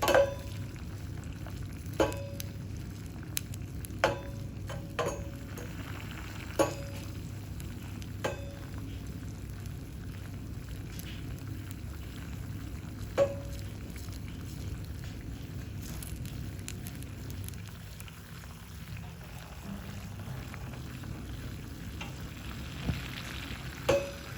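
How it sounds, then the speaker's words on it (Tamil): About 100 grams of butter and chocolate chips melt in a pan with a soft, steady sizzle, punctuated by occasional sharp clicks of a spoon against the pan. "100 gram வந்து பட்டரை போட்டுட்டு அதோடைய சாக்லேட் சிப்பையும் போட்டு மெல்ட் பண்ணிகிட்டு இருக்கேன்"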